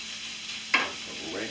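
Steak and cheese filling sizzles in a frying pan, a quiet steady hiss broken by one sharp scrape of stirring near the middle, then a softer sizzle that trails on.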